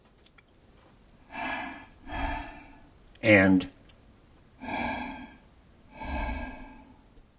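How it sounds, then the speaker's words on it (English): Someone demonstrates deep breathing into the lungs while explaining breath control for playing an instrument, with four slow, audible breaths and a short burst of speech between them, all close and fairly quiet. "take in air deeper into my lungs rather than what I just did, which was closer to the throat"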